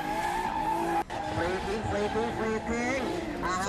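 At a drifting competition, a race car swings into the first corner with loud, sustained tire squeal and engine roar, while a commentator talks excitedly over it.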